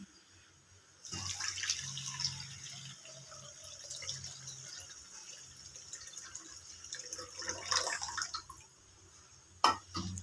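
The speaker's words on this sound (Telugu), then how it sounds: "నెక్స్ట్ వచ్చేసి వాటర్ వేసుకుంటున్నా" Water is poured onto organic jaggery in a vessel for panakam, a steady close pour lasting several seconds, ending with a few drips and a small clink.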